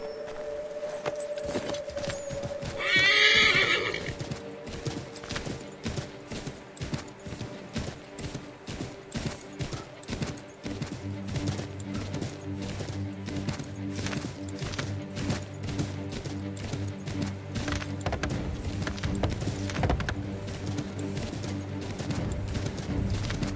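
Hooves clip-clop in a quick, steady rhythm, a horse galloping close by in the video game Assassin's Creed III, with a brief whinny early on and a low rumble joining later.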